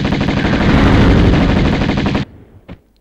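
Rapid automatic gunfire aimed at Lara in the PS1 video game Tomb Raider: a loud, dense burst of continuous shots that cuts off abruptly, followed by one faint short shot, with no talk.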